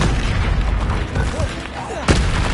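An explosion spell, Confringo, bursting in Hogwarts Legacy, a sharp loud boom near the end over a dense backdrop of spell effects and combat noise, with a voice speaking.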